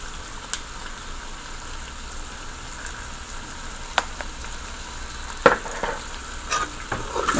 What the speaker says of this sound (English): now I'm going to stir all these up. Let it fry a little more.